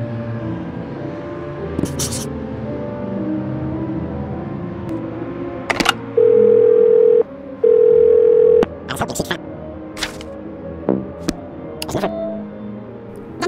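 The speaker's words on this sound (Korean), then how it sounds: "그녀에게 전화를 겁니다." In the video game Do Not Feed the Monkeys, a phone call produces a steady dial tone: two long, loud beeps with a short gap between them, surrounded by scattered clicks and sharp interface sounds.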